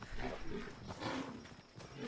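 A horse in the video game Assassin's Creed Odyssey snorts and whinnies faintly in the distance, low and muffled, over game ambience.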